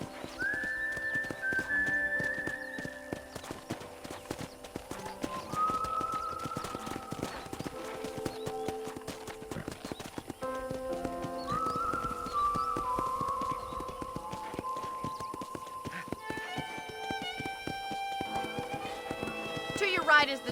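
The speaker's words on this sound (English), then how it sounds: "let's see if you can still ride a horse" Horse hooves clip-clopping at a steady run with a whinny, from a ranch ride in the video game Red Dead Redemption, set against a game music score with whistled melody lines and a voice talking over it.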